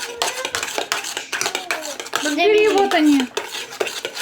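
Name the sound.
stirring homemade ice cream mixture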